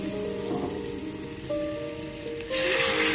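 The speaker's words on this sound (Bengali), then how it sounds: "এখানে মশলাটা ভাজা হয়ে গেছে, এখন সামান্য আমি পানি দিয়ে দিব" Ground spices fry in oil for a gourd and chicken curry, a steady crackling sizzle that flares into a louder hiss near the end as a little water hits the pan.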